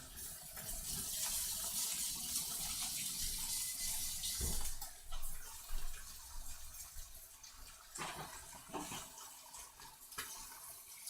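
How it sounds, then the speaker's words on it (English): Tongs rinsed under a running kitchen tap, with a steady rush of water hitting a sink, growing briefly louder and then settling, a few knocks and splashes near the end. "let me wash off my tongs here"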